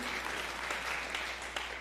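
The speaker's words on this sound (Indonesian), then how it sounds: "Berikan tepuk tangan yang beri." Congregation applauding during a Christian church sermon, a steady dense wash of clapping from many hands that fills the whole stretch at an even level.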